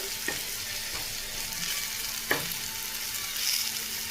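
Sliced potatoes and onions, with some green chilli, frying in a pan, a steady close sizzle with a few sharp clicks of a spatula stirring against the pan.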